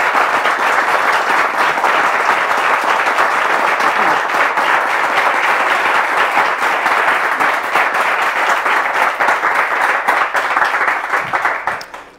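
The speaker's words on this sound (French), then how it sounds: "est-ce qu'on peut applaudir notre premier témoin qui va faire son entrée sur ce plateau?" A studio audience on a French TV talk show applauds steadily for around twelve seconds as a guest walks onto the set, dense sustained clapping that fades only at the very end.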